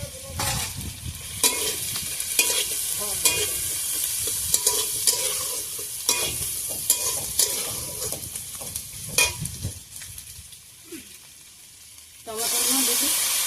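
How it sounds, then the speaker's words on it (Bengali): Garlic and onions fry in a pan for a Bengali recipe, a steady close sizzle broken by repeated scraping stir strokes, easing off briefly before a fresh loud hiss near the end. "রসুন করে দিয়ে দিই। পেঁয়াজগুলো দিয়ে দিই সব।"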